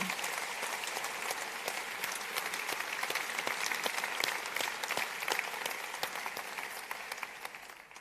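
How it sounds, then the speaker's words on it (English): Steady applause from a large crowd in a church at an academic Dies Natalis ceremony, dense clapping that holds evenly for several seconds before tapering slightly at the end. "So a big applause also for Julianne and her team."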